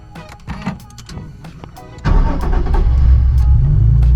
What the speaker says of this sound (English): Like, it starts right up.